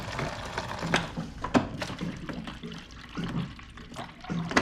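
Water pours into a plastic deli container while calzone dough ingredients are weighed, with soft, irregular splashing and trickling close by.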